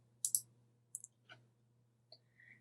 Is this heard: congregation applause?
no